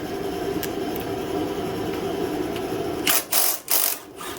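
Wrench cracking loose a bolt on a junked generator's gas tank mount, a steady metallic working rattle that breaks into several sharp, loud ratcheting bursts near the end, close up with no talk.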